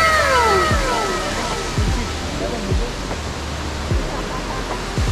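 A river in Uruapan National Park, Michoacán, rushes with a loud, steady broadband roar of flowing water, close by, while people talk over it.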